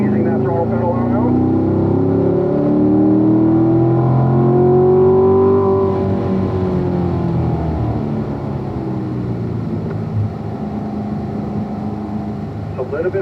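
A race car engine on a track climbs and falls in pitch through a long throttle application, loud and close with a droning, harmonic roar. A voice talks over the engine throughout.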